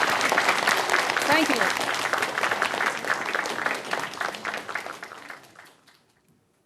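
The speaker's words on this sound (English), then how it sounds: "Let's give them another round of applause." An audience claps loudly after a song and dance performance, the applause thinning gradually and fading out to near silence by the end, with a brief spoken thanks over it.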